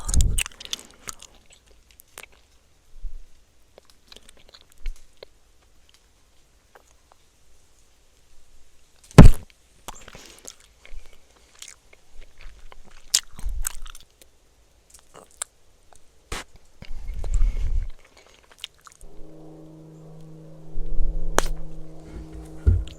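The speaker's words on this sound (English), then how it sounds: "Let's try and blow a bubble" Blue raspberry bubble gum chewed close to the mic, soft wet smacks and squishy bites in irregular bursts with quiet gaps, plus a faint hum near the end.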